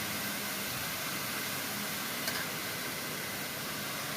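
Kolai greens fry in a pan with a steady, even sizzle that holds at the same level throughout, close by and with no talking.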